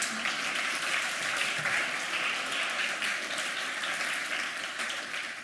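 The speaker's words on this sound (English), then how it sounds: "Are you clapping because I made you hate your ears?" Audience clapping at a hacker conference talk, a sustained, dense roar of many hands clapping that stays loud and even throughout.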